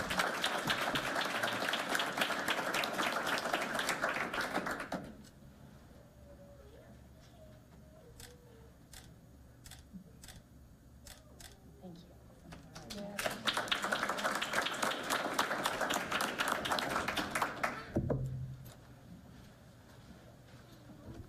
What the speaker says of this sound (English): a huge round of applause for these students